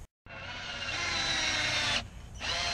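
Power drill driving screws into a fence panel fitted over a chain link fence, a loud steady whine after a brief silence, then a short drop as the trigger eases before the motor spins up again.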